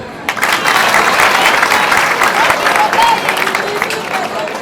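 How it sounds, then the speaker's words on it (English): Audience at a school prefects handover party breaking into loud, steady applause, many hands clapping together for several seconds before slowly tapering off. "Can we clap for her?"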